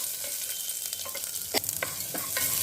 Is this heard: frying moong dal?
yes